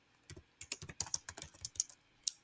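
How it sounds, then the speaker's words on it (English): Numbers are keyed into a calculator in a quick, irregular run of close, crisp button clicks, with a short pause before a final press. "I'm going to type in my moles of solute"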